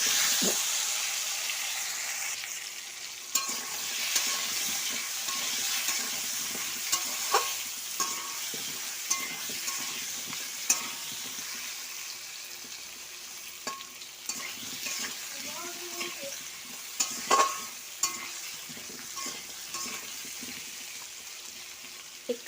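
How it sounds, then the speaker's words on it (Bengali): Potatoes with salt and turmeric frying in oil for chicken curry, a steady sizzle broken by repeated scraping and clinking stirs against the pan, close and continuous, with a brief splash of water and no talk. "ভালো করে ভেজে নেবো আলুগুলো"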